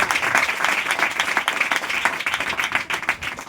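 A congregation applauding together, a dense, continuous patter of many hands clapping at steady volume throughout, fairly close and with no pauses.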